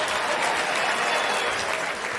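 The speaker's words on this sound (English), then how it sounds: "Some of you are clapping" Applause from a stand-up comedy audience, a dense, steady wash of many hands clapping at once that fills the whole short moment without a voice over it.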